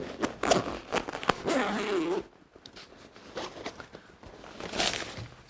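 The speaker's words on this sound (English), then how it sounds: "and then the big zipper." The large zipper of a string bass case is pulled open in quick, scratchy bursts up close, then a quieter stretch of rustling and handling with one more short zip near the end.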